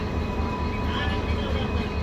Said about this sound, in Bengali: ট্রেন ছাড়লো আদ্রা জংশন।